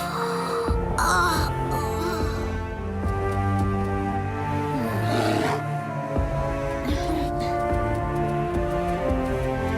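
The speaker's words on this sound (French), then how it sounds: "elle est quand même gardée par une bête féroce" A fierce bear spirit in a children's cartoon lets out a deep, drawn-out roar over layered orchestral music, loud and close, with snarling swells through the middle.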